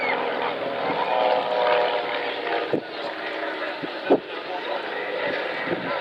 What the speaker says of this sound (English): All aluminium aircraft, powered by 160 horsepower Lycoming engine.